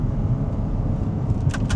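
Low engine hum from a Porsche Cayenne Turbo 958.1 just after a shift into second gear, steady and close, with a couple of brief clicks near the end.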